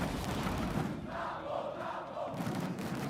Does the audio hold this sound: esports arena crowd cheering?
yes